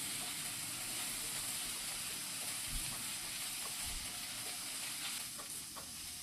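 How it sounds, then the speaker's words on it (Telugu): Ginger garlic paste fries in a pan, giving a steady, close, even sizzling hiss that continues without pause and has a few faint clicks and pops beneath it. "ఇంకొకసారి ఈ అల్లం వెల్లుల్లి పేస్ట్ పచ్చి వాసన పోయేంత వరకు ఫ్రై చేసుకోవాలండి"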